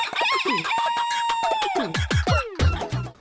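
A rooster crows loudly and close, one long drawn-out call followed by a few shorter clucking notes.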